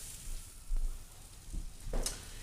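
Mushrooms frying in a pan for chicken marsala, giving a faint, steady sizzle with a few soft clanks and stirring bumps, no voices.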